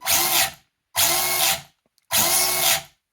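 Three bursts of high, whirring brushed RC car motor noise at maximum drag brake on a Hobbywing QuicRun WP 1080 G2 ESC, each about half a second long and separated by short silences, loud and close.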